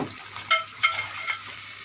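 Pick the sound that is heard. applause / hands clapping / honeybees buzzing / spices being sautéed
spices being sautéed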